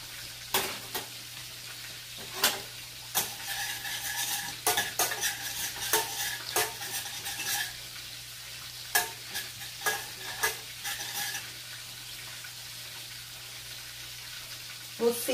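A utensil scrapes and knocks against a pan while stirring gravy in melted bacon fat, with irregular clinks and scrapes over a low, quiet sizzle and a faint steady hum.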